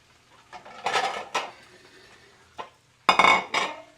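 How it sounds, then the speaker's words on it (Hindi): Cooked saag is served out of pots with a metal spoon, making close clinks and scrapes of utensil against pot in a few separate bursts. A louder clatter near the end closes it out. "अब हम करते अपना डिश आउट।"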